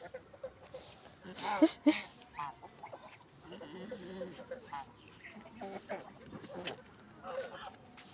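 Domestic geese by green grass in the rainy season give scattered, irregular honks and quacking calls close by, mixed in with a person talking.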